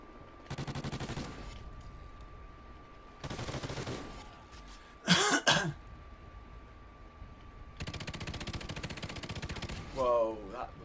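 Gunfire in Call of Duty Ghosts gun game on PS4, several separate rapid bursts of automatic fire with pauses between, one sharper loud volley midway, plus brief game sounds.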